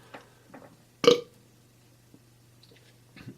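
A single short, low burp erupts close to the mic, brief and fairly loud, with faint breathy sounds before and after in an otherwise quiet room.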